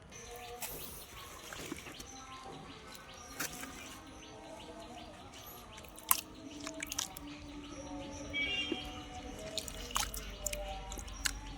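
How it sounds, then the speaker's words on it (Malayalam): Water is poured slowly into a pot where a lotus tuber has just been planted. Steady trickling and dripping continue throughout, with birds chirping faintly in the background. "നമ്മൾ ഇതേപോലെ വെള്ളം ഒഴിച്ചു കൊടുക്കുക"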